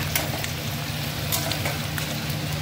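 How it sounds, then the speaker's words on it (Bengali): Spices frying in hot oil in a pan, a steady close sizzle with faint stirring clicks running throughout and no talk. "এবার এর মধ্যে মশলাগুলো আর একটু ভেজে মশলাগুলো অ্যাড করবো"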